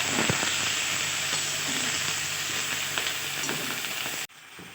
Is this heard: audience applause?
no